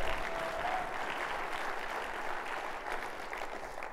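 Applause from a live comedy show audience, with dense, steady clapping filling the room at a constant loudness throughout and no speech over it.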